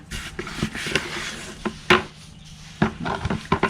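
Seedling potting soil is tossed and mixed by hand in a basin, making dry gritty scrapes and scattered thuds in an uneven rhythm, close and fairly loud.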